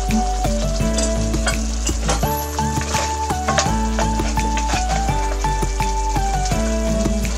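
Crabs stir and sizzle in a pan of mixed seafood curry with coconut milk and sweetcorn, producing continuous loud frying crackle with spoon clinks, set against steady musical tones in the background.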